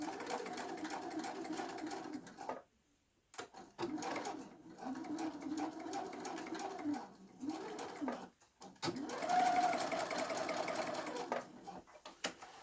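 Sewing machine tacking down a flattened seam allowance at a shoulder seam, running in several bursts of humming stitches with short pauses between them, fairly close and steady, with no voice over it.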